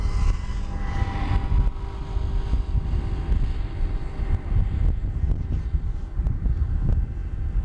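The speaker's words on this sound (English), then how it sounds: "next one up will be Embraer 190 back from London, operated by KLM" A KLM Embraer 190 airliner lands at Schiphol Airport on a windy day. Its engines give a broad, steady roar, and heavy wind buffets the microphone the whole way through. There is no speech.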